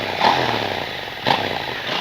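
A 2023 KTM 890 Duke GP motorcycle sits in neutral, its engine running with a rough, buzzy tone and two brief swells in revs within a couple of seconds.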